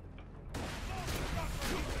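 A grenade detonates in the video game Borderlands: The Pre-Sequel: a sudden loud blast half a second in, then a sustained, crackling rumble with a gunfire-like rattle.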